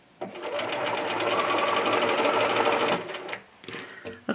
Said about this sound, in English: draw a line where we stopped sewing with great big stitches